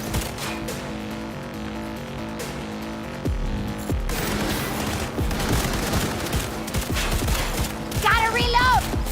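Rapid automatic gunfire in a Cyberpunk 2077 firefight, loud dense bursts of shots with booms and a thick game soundtrack layered beneath, continuous for several seconds.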